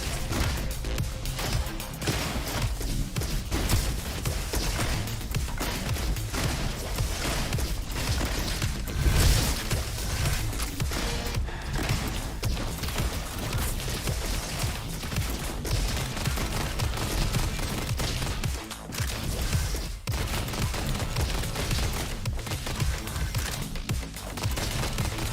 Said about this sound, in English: When I'm hip firing, I'm doing it with a soft pull.